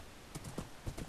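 Horse hooves clip-clop in a video game, a few quick, fairly faint hoofbeats in a short burst with no talking.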